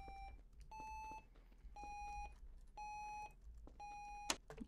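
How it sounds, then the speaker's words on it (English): An electronic beep in the video game Garry's Mod DarkRP repeats five times at an even pace, each tone steady and held briefly, over a low hum, ending with a sharp click. "beeping noise."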